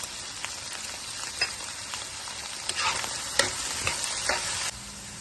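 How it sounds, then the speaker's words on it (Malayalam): Okra stir-frying in hot oil with turmeric in a pan, a steady dense sizzle with frequent stirring scrapes and crackles, close and continuous before stopping abruptly near the end. "ഇവിടെ വെണ്ടയ്ക്ക നന്നായി വഴന്നു വന്നിട്ടുണ്ട്"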